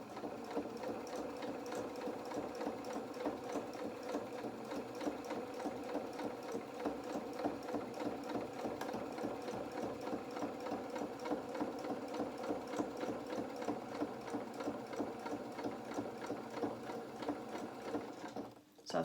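Sewing machine stitching a fabric baby bib, a continuous, even mechanical chatter with a fast regular rhythm, running alone and fairly quiet until it stops at the end.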